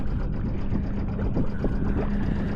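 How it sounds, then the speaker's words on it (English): A sailboat's engine runs steadily close by on a sail toward Thomas Point Shoal Lighthouse, giving a low, continuous rumbling drone with a faint hum above it and no talking. "Shut off the engine in a second."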